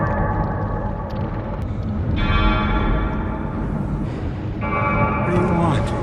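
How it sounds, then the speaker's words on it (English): Deep, resonant clock chimes ring out with a heavy rumbling undertone, struck tones rising twice over a dense low drone, close and loud throughout a tense supernatural scene. "there's the sound of clocks chiming in the background."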